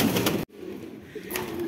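White pigeons in a cleaned pigeon house giving soft, low cooing calls close by, following a brief louder rustle at the start.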